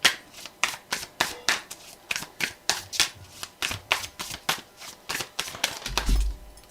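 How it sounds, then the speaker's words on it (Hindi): Tarot cards are shuffled by hand in a steady, close run of about twenty crisp riffling bursts at a regular pace, with no voice over them. "फिर से देखती हूँ शफल करके।"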